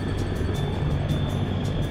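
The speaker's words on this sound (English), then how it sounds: "CH-53K King Stallion heavy lift helicopter" A CH-53K King Stallion heavy-lift helicopter, a loud steady low rumble with a rhythmic rotor pulse and a high whine, continuous and close.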